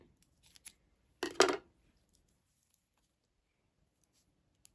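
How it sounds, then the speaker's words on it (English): Scissors snip through crochet yarn in a single short, close cut after a few faint ticks, then quiet. "now you're going to cut your yarn"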